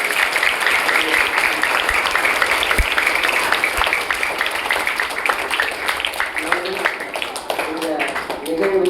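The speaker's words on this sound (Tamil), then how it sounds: "நம் பள்ளியின் சார்பாக கைத்தட்டி வருக" A school audience applauds in welcome for guests, sustained crowd clapping that continues loudly throughout, with voices talking over it.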